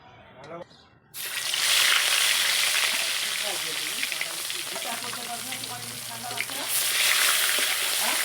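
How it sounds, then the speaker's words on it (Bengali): Katla fish drops into hot oil in a wok with a sudden loud sizzle that stays strong and continuous, after a quiet start with brief talk. "তেলটা ভালো করে গরম হয়ে গেছে, এবার মাছটা ছেড়ে দেবো"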